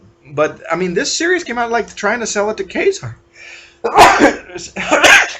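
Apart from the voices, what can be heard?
sneeze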